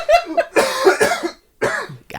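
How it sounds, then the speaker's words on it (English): Several harsh coughs in quick succession, loud and close, with a brief pause before a final short burst. "That one made me cough."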